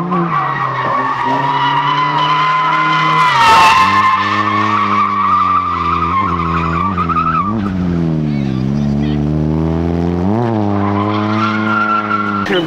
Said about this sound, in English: Extend the drift, yeah, and then like you clutch them back into it, you extend it.